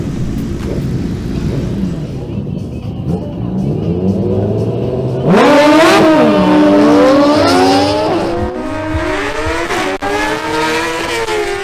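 A Suzuki GSX-R600 sport bike launches in a drag race, its engine howling upward through several quick gear changes, loud and rising as it passes, with a lower idling engine rumbling beforehand.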